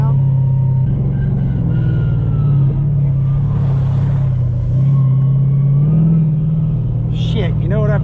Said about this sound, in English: This shifter, it's kind of nice. Drop her down, slows the truck down.